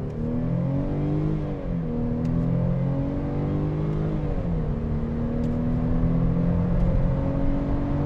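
Mercedes C300 with a naturally aspirated engine accelerating hard in sport mode with stability control off, a loud, steady engine roar rising in pitch through the gears with brief shift dips.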